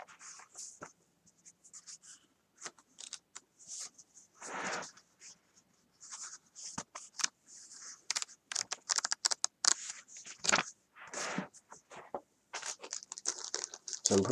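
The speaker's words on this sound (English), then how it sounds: "So I'm gonna put this back in this plastic bag." Plastic bag rustled and crinkled close by while a Nintendo DS Lite's papers and booklets are packed back into it, giving a run of sharp, irregular crinkles and crackles with brief pauses.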